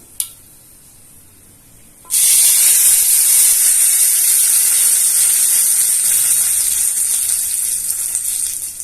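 A hot tempering of mustard seeds, curry leaves and dried red chillies poured into rasam: after a short quiet start, a sudden loud, close sizzle bursts out and hisses steadily on, fading only slightly.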